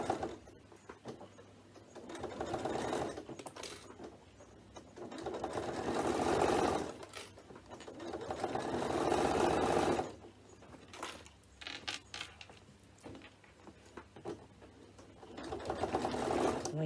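A sewing machine stitches around the corner of a fabric bag, running in several bursts of rapid whirring stitches separated by short pauses filled with soft handling and clicks.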